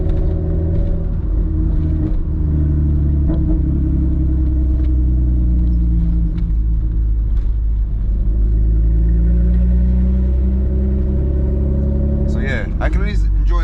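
Honda Accord with loud open headers cruising on the road: a heavy, constant low rumble with a deep droning exhaust note throughout, close and loud, and a few brief clicks and rattles near the end.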